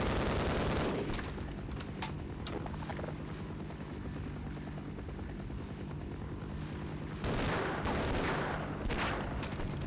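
Gunfire in the video game Half-Life 1: loud, continuous bursts of rapid shots over a heavy rumbling roar, with a brief drop partway and a fresh sharp burst toward the end.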